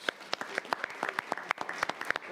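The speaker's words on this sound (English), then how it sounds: "Let's give them a big round of applause." Applause from the audience at a city commission meeting for housing rehab partners: scattered, sharp hand claps in a moderately sized room, fairly soft and irregular rather than a dense roar.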